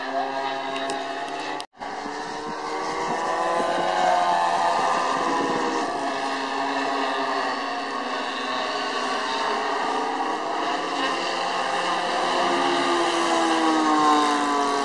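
A small RC airplane engine drones steadily with a buzzing, slightly wavering pitch after a brief cutout near the start, loud and continuous throughout, during a group flight of five RC planes.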